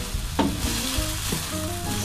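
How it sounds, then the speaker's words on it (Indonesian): Stir-fried glass noodles with wood ear mushrooms and soy sauce are stirred in a pan, with a steady close sizzle, scraping utensil strokes and clinks against the pan, and no voices. "Aduk sampai rata"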